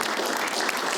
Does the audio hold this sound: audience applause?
yes